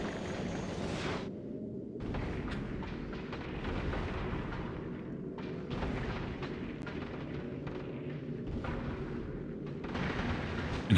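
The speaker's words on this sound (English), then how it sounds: "Oh, railguns." Railguns in Factorio Space Age fire in a string of heavy booming blasts, each followed by a rumbling tail. Shots come in irregular bursts over a constant low roar, loud and fairly close.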